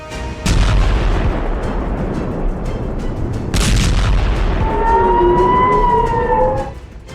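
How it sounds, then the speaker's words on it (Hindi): Air raid sirens wailing across Israel, a rising and falling howl that emerges in the second half over a heavy, rumbling background with two sharp booming bursts early on. "इजराइल में पूरी रात सायरन बजे।"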